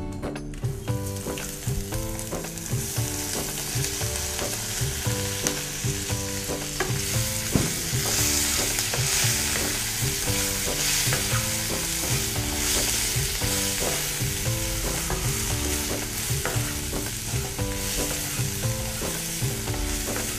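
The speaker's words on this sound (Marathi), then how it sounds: "भेंडी चांगली भाजून घ्यायची" Okra fried in a spiced oil tempering while being stirred, a steady loud sizzle with continuous scraping and clinking of the stirring utensil throughout, no voices.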